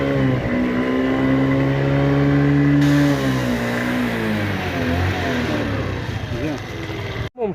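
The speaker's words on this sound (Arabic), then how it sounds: "نديماريو الموطور على بركه الله. بسم الله. هاو طقه مارش" A small Kymco Cappuccino scooter engine starts and revs up and down with sharp, rising whines, loud and close, then cuts off abruptly at the end.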